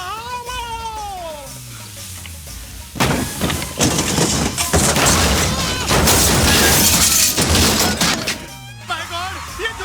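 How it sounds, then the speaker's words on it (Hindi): A hut crashes onto a car with a loud, sustained rush of smashing and clattering debris, between stretches of someone shouting. "ये झोपड़ा मेरे गाड़ी के ऊपर कैसे आ गया?"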